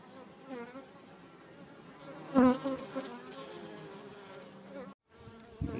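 Honey bees buzz steadily around an open hive during a brood inspection, a continuous close drone with a louder swell midway and a brief drop near the end.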